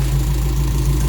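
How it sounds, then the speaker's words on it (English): A Toyota Corolla KE55 petrol engine idles steadily after distributor and throttle adjustments, giving a low, even rumble with a constant hum close by. "might try and get it idling a little bit nicer"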